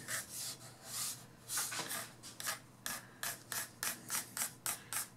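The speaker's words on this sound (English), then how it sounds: "I can pay particular attention to that as I'm sanding" Hand sanding of a wooden reloading bench, a steady run of rhythmic back-and-forth rasping strokes, close and even, quickening slightly toward the end with no talk.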